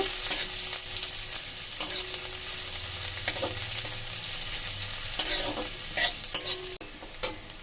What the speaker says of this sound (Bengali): একটা বড় সাইজের পেঁয়াজ কুচিয়ে নিয়েছি লাল লাল করে ভেজে নেব